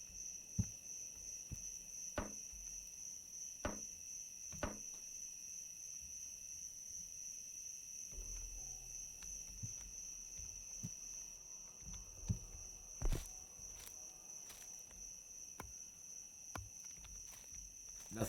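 Steady high cicada buzz from the Escape the Pacific survival game fills the background, with sharp tree-chopping thuds scattered on top at irregular intervals.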